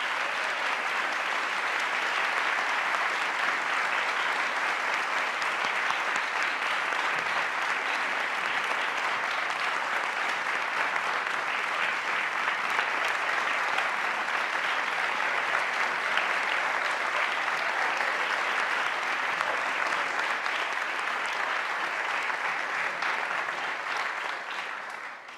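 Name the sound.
audience applause for students at a board meeting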